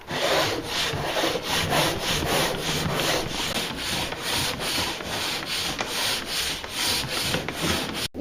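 A pole sander scrubs drywall joint compound in steady back-and-forth strokes, a rhythmic gritty rasp repeating roughly every half second, close and continuous with no voices.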